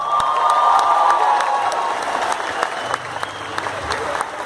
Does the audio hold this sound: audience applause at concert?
yes